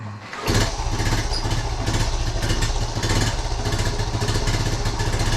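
A 1976 Honda Z50J1 Monkey bike engine runs roughly on half choke, a steady close putter with a low thrumming pulse that starts abruptly and holds loud throughout.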